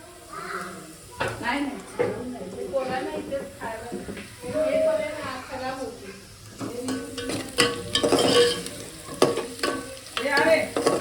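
Spices such as turmeric shallow-frying in oil in a pan, sizzling in bursts with stirring and scraping of a utensil, a voice talking over it.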